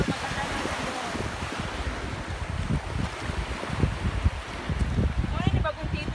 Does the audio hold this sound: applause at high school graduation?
no